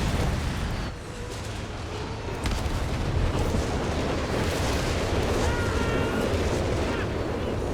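Nebelwerfer rocket artillery in Company of Heroes 3 on a snowy winter map, heavy rumbling blasts and booms rolling under a continuous battle din while a caster talks over it.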